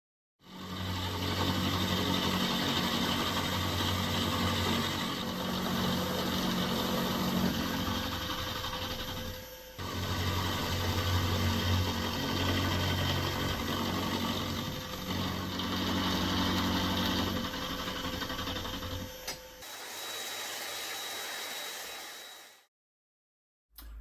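A milling machine drives an end mill, not the sharpest, through a small piece of metal for a model locomotive coal bunker, giving a steady, loud machining drone with a low hum that runs on and stops near the end.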